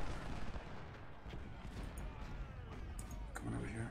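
Massed musket volleys from Civil War troops on a battlefield in Ultimate General: Civil War, a dense continuous crackle of gunfire rumbling under a voice giving orders.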